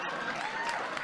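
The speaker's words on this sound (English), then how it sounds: "I don't want your pity clapping." An audience applauds in a television studio, a dense burst of clapping that fills the whole short moment at steady volume.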